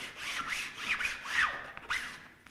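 Firm rubbing strokes burnishing a hinge down to bond it, close and steady, a few back-and-forth passes with a scratchy, papery texture.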